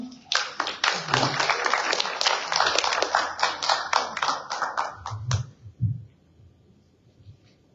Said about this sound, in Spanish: ya la recibimos con un fuerte aplauso